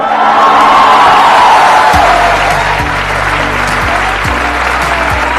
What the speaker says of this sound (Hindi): So let's give an energetic and warm welcome to the one and only Pushkar Raj Thakur